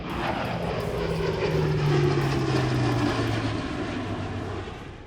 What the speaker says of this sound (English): Of the military transports, there's also a European one here, the Airbus A400M. Big, turboprop and beautiful.